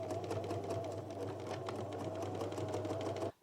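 A sewing machine runs steadily at close range while mending jeans, its rapid needle clatter and motor hum holding almost unbroken before cutting off abruptly at the end.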